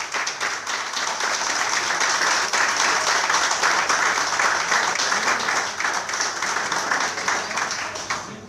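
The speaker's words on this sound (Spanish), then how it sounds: "tu público, tu familia, tus amigos te reciben con este aplauso" An audience at a book presentation for the author Nicolás Gómez's "Anomalías" applauds in a steady, dense wash of clapping that holds loud for about eight seconds, easing slightly near the end.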